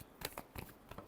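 Tarot cards being shuffled briefly, a few soft, close card flicks and slides in a quick irregular rhythm, quiet and with no talking.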